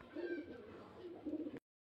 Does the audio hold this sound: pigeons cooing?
yes